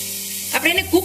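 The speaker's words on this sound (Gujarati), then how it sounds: "મારું જે છે તેલ ગરમ થઈ જાય એટલે એની અંદર હું સૌથી પહેલા ઝીણી સમારેલી ડુંગળી એડ કરીશ" Finely chopped onion sizzles in hot oil with a brief, even hiss, and a voice speaks over it near the end.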